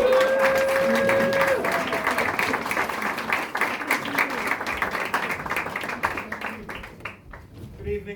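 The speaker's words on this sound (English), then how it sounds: "Give a warm round of applause for Koen." Warm audience applause at a storytelling event, a dense burst of clapping from a crowd that gradually thins and fades toward the end, with a faint tone and some voices mixed in.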